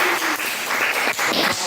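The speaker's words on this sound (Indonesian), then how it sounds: "tepuk tangan untuk kelompok 1." An audience of students clapping for a presenting group in a classroom, a dense, loud burst of applause filling the short moment with slight dips in intensity.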